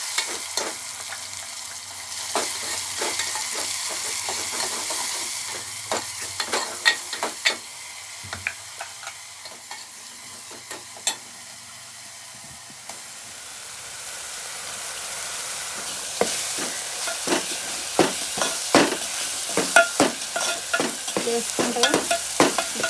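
Spicy egg curry sizzles and bubbles in a pan while a spoon stirs and scrapes through it, a steady close frying hiss with repeated sharp clinks and scrapes, loud and continuous without talk.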